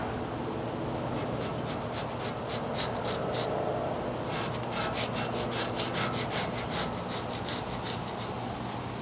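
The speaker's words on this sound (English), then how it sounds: "We're going to take our handy dandy plastic scraper here and see what happens." A plastic scraper rasps paint off a frame during striping work, a steady, close, fairly loud scraping that turns into quick rhythmic back-and-forth strokes in the second half.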